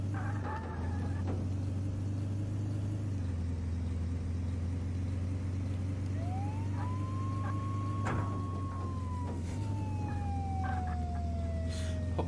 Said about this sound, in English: Why would I even need to have the siren?